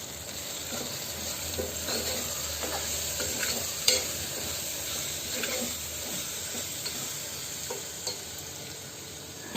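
Coriander powder, garam masala and turmeric being stirred in a hot pan, with a soft continuous sizzle broken by scattered scraping clicks of the spoon, fairly quiet and close, without speech.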